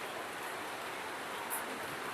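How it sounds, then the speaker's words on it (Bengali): Steady rain falling in a village on a cold morning, a dense even hiss with no breaks, moderately close and without any voices. "সকাল থেকে এমন পরিমাণ বৃষ্টি।"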